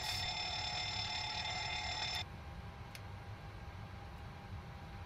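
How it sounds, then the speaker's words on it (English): A cockpit alarm test in a PMDG 737 in Microsoft Flight Simulator 2024. A loud, steady electronic bell rings for about two seconds and then cuts off, leaving a low cockpit hum and a few faint clicks. "So for alarms, I would think we would do these tests."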